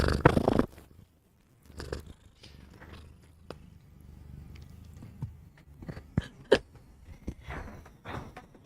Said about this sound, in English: A little purr for everyone.